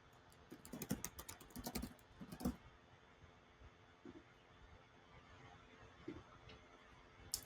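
Computer keyboard typing for a customer search in order software, a quick burst of close, crisp keystrokes at first, then a few sparse clicks over a quiet hum.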